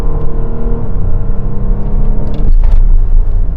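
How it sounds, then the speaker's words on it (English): Audi Q7 diesel SUV with automatic gearbox under launch-control acceleration from a standstill, a steady loud engine drone and rumble that surges again partway through as it pulls hard. "So let's launch it, see how quick it is from 0 to 60. Diesel power!"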